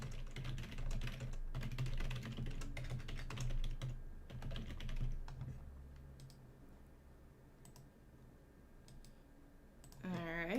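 Quick clicky keystrokes on a computer keyboard come in bursts during a livecoding stream, moderately close and fairly quiet, with a low steady hum beneath and a pause in the middle before a brief rising sound at the end.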